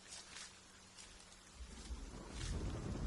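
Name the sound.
rain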